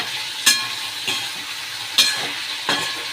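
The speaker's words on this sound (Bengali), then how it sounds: "আর এখানে হচ্ছে হচ্ছে আলু ভাজা" Potatoes seasoned with salt and turmeric fry in a pan for khichuri, a steady soft sizzle broken by four sharp stirring scrapes at regular intervals, close and alone with no voices.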